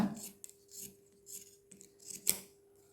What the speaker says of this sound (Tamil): இந்த மாதிரி வந்து அப்படியே கட் பண்ணி எடுத்துக்கோங்க